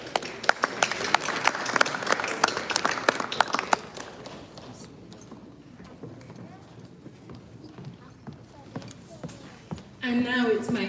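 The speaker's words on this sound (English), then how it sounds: "Please give another huge round of applause for all our amazing invited speakers." Audience applause for invited speakers at the Samhita 2022 event: a loud burst of dense clapping that thins and fades after a few seconds, leaving a quieter room and a brief tonal sound near the end.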